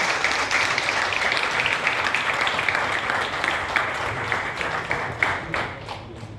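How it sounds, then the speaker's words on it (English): A crowd applauds at a jersey logo reveal for the Daivadnya Cricket Cup in Margao, loud continuous clapping with cheering mixed in that eases slightly near the end. "Guys, please give them a huge round of applause."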